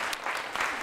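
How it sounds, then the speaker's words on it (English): Audience applause for Councilwoman Stephanie House-Jones at a press conference on a housing initiative milestone: dense, steady clapping from a crowd, fairly loud and continuous throughout the short burst. "we can clap for Councilwoman House-Jones"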